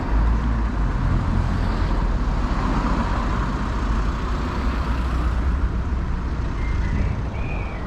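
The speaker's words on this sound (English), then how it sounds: "Heavy traffic." Heavy road traffic rolls steadily through a village street, a constant broad roar of passing cars and larger vehicles close by with no pauses, and no talk.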